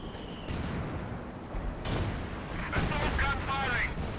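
Mortar impacts and gunfire in Company of Heroes 2 on the Lienne Forest map: sharp booming blasts and crackling shots at irregular intervals over a constant rumbling battle ambience.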